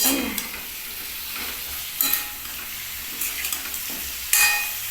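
Pumpkin and potato fry in oil in a pan, giving a low steady sizzle broken by a few louder stirring scrapes.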